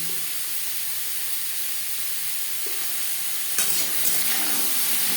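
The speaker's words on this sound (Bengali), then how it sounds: "লবণ হলুদ পেঁপের সাথে বেশ ভালো করে মিক্স করে দেব" Papaya with turmeric and salt is stirred in a hot pan, giving a steady, close sizzle throughout with scraping stir noises that grow louder toward the end.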